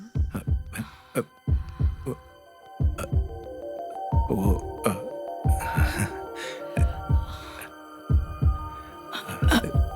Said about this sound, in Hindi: ये जो इनकी धड़कन सुनाई दे रही है वो स्पीकर में लगे वूफर जैसी लग रही है ना?